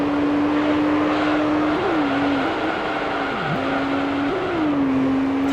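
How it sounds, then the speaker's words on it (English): A Nissan drifts in the racing game Gran Turismo 3, its engine holding a steady loud drone that dips and swoops in pitch through the slide, running continuously with no voices. "They want me to drift the Nissan."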